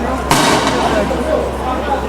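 A sharp explosive bang from police stun grenades bursts out at a street protest, followed by a lingering rumble and crowd noise, with scattered distant pops of rubber bullet shots underneath.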